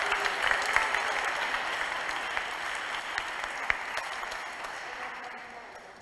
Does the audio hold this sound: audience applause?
yes